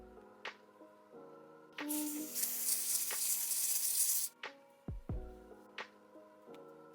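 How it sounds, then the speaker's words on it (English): Spray adhesive sprayed along a wig hairline, with a steady close hiss of about two seconds, framed by small clicks, handling taps and faint background tones. "We're gonna bring out some spray adhesive and just spray that right along the hairline."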